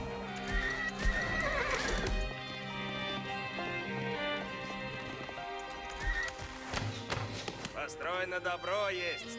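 Horse archer cavalry in the real-time strategy game Age of Empires IV, with loud neighs and whinnies over clattering hooves and battle noise, mixed into busy game audio.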